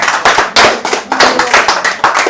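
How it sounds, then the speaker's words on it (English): Audience applause welcoming the first speaker of a lightning-talk session at a Rust programming meetup in Poland, a few close individual claps forming loud, uneven bursts that rise and fall throughout. "Applause."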